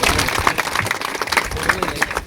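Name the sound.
applause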